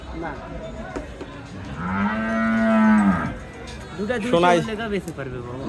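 A cow moos once in a long, loud, drawn-out low call at a busy cattle market, with crowd voices and talk in the background before and after.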